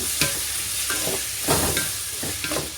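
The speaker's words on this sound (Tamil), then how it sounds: "தக்காளி போட்டு கொஞ்சம் உப்பு போட்டுக்கலாம் ஃப்ரெண்ட்ஸ். வதங்கணும்" Tomatoes with salt sauté in a pan, stirred with a spatula that scrapes in repeated strokes over a steady close sizzle.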